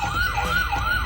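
A toy fire truck siren wails in a rapid, repeating up-and-down electronic sweep, close and loud, with about three full cycles in quick succession.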